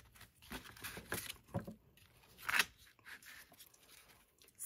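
Scissors cutting away excess paper while making an eco journal of distressed pages, close and quiet, with several short snips and crisp rustling of paper.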